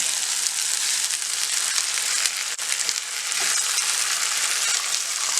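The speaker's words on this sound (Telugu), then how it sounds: "3 ఎగ్స్ని బీట్ చేసుకొని ఇందులో పోసుకోవాలి." Three beaten eggs frying in hot oil with spring onion give a loud, dense, continuous sizzle that holds steady throughout, with a brief dip midway and no talking.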